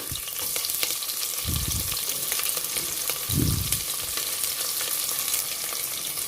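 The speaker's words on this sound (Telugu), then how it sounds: "మసాలా దినుసులన్నీ వేగిన తర్వాత మనం కట్ చేసుకున్న 2 ఉల్లిపాయ ముక్కల్ని వేసేసుకోవాలి" Chopped onion pieces fry in hot oil with whole spices for a tomato pulao, giving a continuous close sizzle broken by two short, heavier bursts of stirring.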